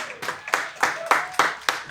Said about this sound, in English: That is a round of applause from an unimpressed live audience.